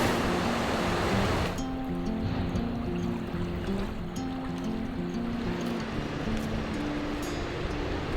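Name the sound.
river flowing through Oslo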